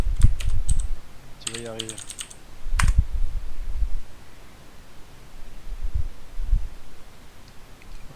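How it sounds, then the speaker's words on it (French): Clicky typing on a mechanical computer keyboard, close and irregular, in bursts of quick keystrokes separated by pauses, while someone speaks briefly in French. "c'est juste que j'ai un clavier mécanique"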